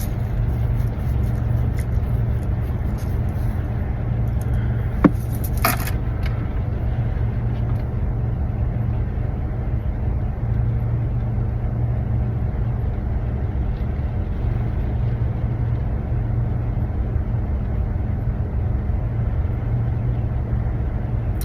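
A car driving home on the road, with a steady low engine and road rumble throughout and a brief click partway through.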